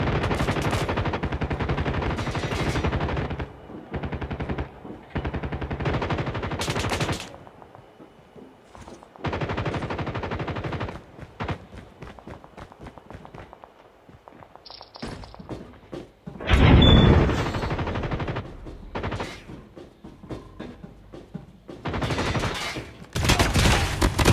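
Call of Duty gunfire rattles through repeated automatic bursts and single cracks, loud and close, with a heavy blast partway through and very little talking.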